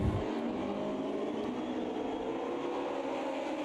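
A Mercedes 190E DTM race car at a race start at Spielberg in the AMS2 racing game, a continuous dense engine drone with a broad roar of several cars, steady and loud with no talk.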